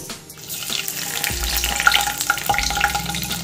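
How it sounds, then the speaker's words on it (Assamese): Two bay leaves hit hot oil in a wok (kerahi) for an Assamese masoor dal, giving a close, steady crackling sizzle with a few sharper pops and no talking. "মোৰ তেল গৰম হৈ গৈছে এতিয়া মই ইয়াতে দুটা তেজপাত দিম"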